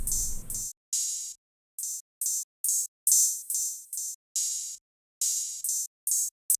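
Two different open hi-hats layered together in an FL Studio beat play a syncopated pattern of crisp, hissy cymbal bursts with short gaps between hits. A brief low rumble sits under the first hit.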